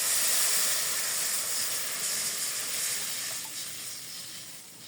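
A splash of water hitting a hot frying pan of onions in a village kitchen, bursting into a loud hissing sizzle that slowly settles and softens over several seconds.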